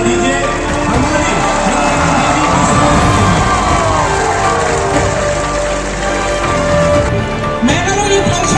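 Audience applause and cheering at a public event in Meghalaya, a dense, loud, continuous roar of clapping, whoops and shouting with music-like tones underneath.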